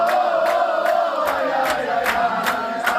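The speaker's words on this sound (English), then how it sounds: "The family of hostage Elkanah Botbat cheering and dancing after receiving a video of their loved one ahead of his release." Families of Israeli hostages cheering and celebrating together, a loud crowd of overlapping joyful voices with rhythmic bursts of clapping or shouting repeating about every half second throughout.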